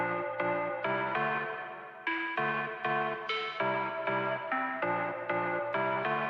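Bright synth pluck chords, layered over a Nostalgia synth sound in an Afro dancehall beat, play a steady rhythmic progression, each short stab ringing briefly, shifting pitch every few beats with no voices.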